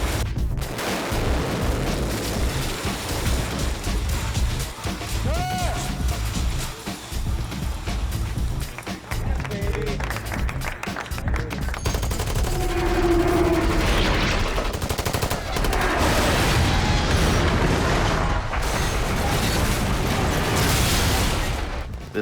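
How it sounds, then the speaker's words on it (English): Pyrotechnic explosions tear through a miniature film set built for The Matrix Revolutions, with pipes flipping up and debris raining down, a dense continuous roar of blasts and crackling rubble filling the whole stretch loudly. "That the explosions, the pipes that would flip up into frame, the debris that would fall"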